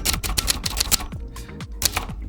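A manual typewriter clacks through a burst of rapid keystrokes, each strike a sharp close snap, with a brief pause midway before a few more keys are struck.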